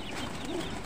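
Chickens kept at a pigeon loft give a brief, close cluck or two over a low background hum.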